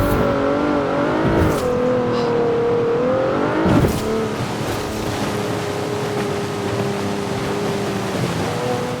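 A 2012 Jeep Wrangler Rubicon AWD with a drift tune in a driving video game, its engine droning loud and steady, the pitch dipping and climbing at two gear changes before settling into a sustained roar.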